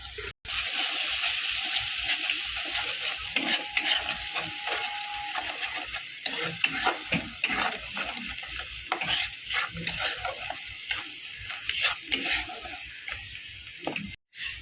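Ground spices such as turmeric and red chili powder sizzling in oil in a pan while a spoon scrapes and stirs, with irregular clicking strokes over a continuous hiss, close and fairly quiet.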